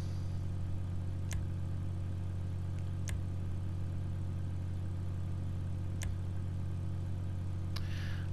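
A Grotti Itali GTO sports car engine in GTA 5 hums at a steady idle, a constant low drone with a few sharp brief clicks breaking through, no talking.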